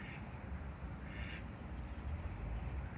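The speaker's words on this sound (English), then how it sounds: "Hey, look, the ducks are coming." Ducks quack a few times at a quiet outdoor spot, faint and somewhat distant over a low rumbling background.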